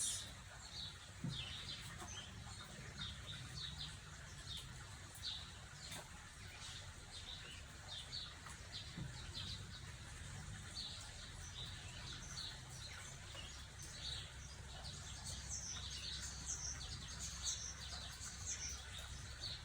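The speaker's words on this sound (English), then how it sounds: "I just realized sitting here how many birds I've got singing in the background here." Many birds sing outdoors at once, a steady dense chorus of chirps and trills spread across the distance, fairly faint, continuing unbroken with no voices over it.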